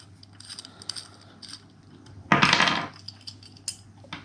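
Metal Allen screws being worked loose and pulled from an aftermarket side stand foot plate on a 2023 Honda CB500X, giving a few scattered light clinks and one louder scraping metallic burst, close up with no talking.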